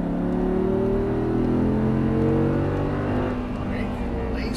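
Audi R8 V10 accelerating hard on a race track at Exotic Racing in Las Vegas, a loud sustained engine drone climbing steadily in pitch from inside the car.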